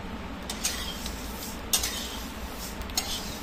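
Whole spices such as coriander seeds and cloves dry-roasting in a pan for homemade garam masala: a steady hiss with light scraping stirs and occasional rattles, close up.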